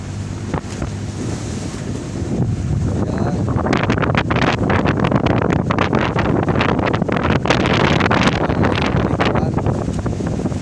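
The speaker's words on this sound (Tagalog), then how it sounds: "Pero bagyong Inding daw po ito mga kapatid." Strong wind from Typhoon Inding buffets a boat heading out to open sea, a loud steady roar of gusts against the microphone mixed with waves and water rushing around the hull.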